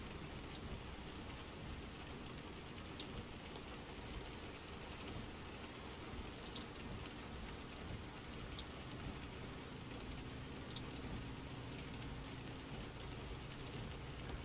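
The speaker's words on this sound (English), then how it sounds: "Funny enough, it is raining right now" Steady rain hisses in a truck-driving game, American Truck Simulator, a soft, even patter with a few brighter drop ticks over a low background rumble, continuous and fairly faint throughout.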